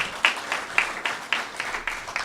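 At a public announcement by the state Attorney General, audience members clap in a short run of evenly spaced, moderately loud claps lasting a couple of seconds.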